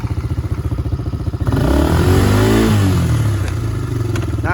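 A 2020 Tracker 90 youth ATV engine catches after an electric start and settles into a loud, steady, close-up idle with a slight rev and some mechanical clatter.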